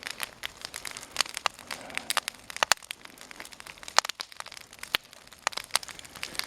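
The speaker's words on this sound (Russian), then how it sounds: "Все работает, огонь прет." Fire crackling as it burns through a channel inside a log in a forest taiga-style campfire, with dense irregular pops and snaps, moderately close, no talking.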